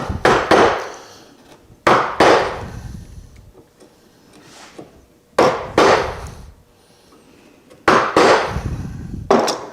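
Sharp mallet strikes on a chisel cutting out a wooden bed-bolt mortise, arriving in clusters of several blows separated by short pauses, loud and close.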